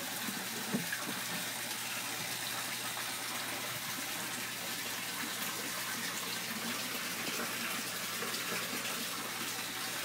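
Water flowing down through a net and bubbling in an aquaponic tank, a steady dense gushing and trickling wash that holds even from start to end with no talking.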